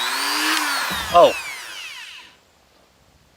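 A Ryobi RRT200 rotary tool set to medium speed whines steadily up close, its pitch sweeping as it works, then spins down and cuts out; a brief exclaimed voice breaks in midway.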